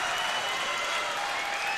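Home crowd for York cheering and applauding at an IHSA boys varsity volleyball match against Marist, a loud, dense, continuous roar filling a gym during a timeout at 19-17.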